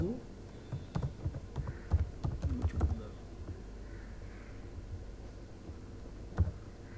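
Typing on a computer keyboard while entering a name into a West Bengal government e-Office form, with a burst of quick key clicks followed by a few isolated taps, under talk.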